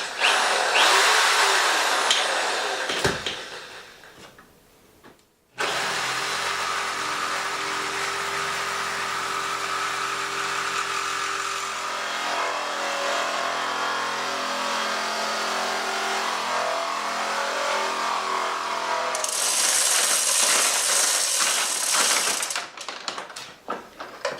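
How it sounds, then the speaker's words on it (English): A reciprocating saw chews through the layered, folded sheet metal of a car roof. It stutters and fades at first, stops briefly, then runs in a long, loud, steady cut with a shrill rise near the end. "I'm surprised the reciprocating saw did so well."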